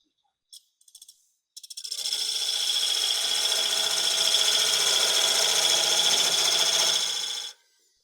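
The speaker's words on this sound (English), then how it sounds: "just an old Craftsman high-speed steel scraper I picked up at a tool swap or something. I'm gonna line this up and go straight in for maybe 3/8 of an inch" An old Craftsman high-speed steel scraper plunges into wood on a lathe to cut a tenon for a turned box, giving a few brief taps and then a steady, close, loud scraping hiss for several seconds before stopping.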